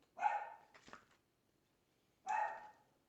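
Dog barking indoors in a home kitchen, two loud close barks separated by a short gap, with a softer huff between them and no talk.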